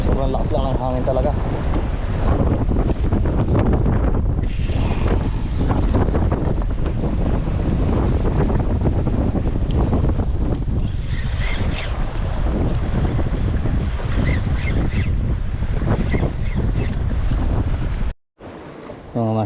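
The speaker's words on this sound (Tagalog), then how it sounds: "Sobrang lakas lang ng hangin talaga." Strong wind at sea during a fishing trip, a steady loud roar buffeting the microphone and mixing with boat and water noise throughout, cut by a brief dropout near the end.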